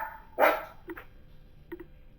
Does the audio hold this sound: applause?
no